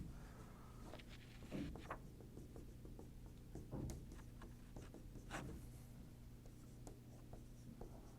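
Chalk or marker moves across a classroom board as an algorithm is written out, producing soft, close scratching strokes in short bursts against a steady low room hum.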